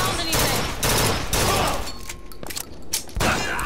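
Bursts of loud gunfire in the shooter BioShock Infinite come in several volleys separated by short gaps, close and forceful, with no voices over them.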